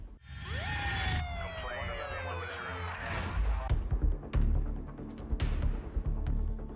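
An ambulance siren wails nearby as the vehicle takes an injured tourist to hospital. Sweeping rising and falling tones sound loud over rumbling traffic, fading after a few seconds into clattering street noise and indistinct voices.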